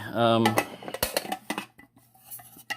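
Metal East German mess kit pot and lid clanking as they are handled, with a ringing tone at the start followed by a string of sharp close knocks and rattles.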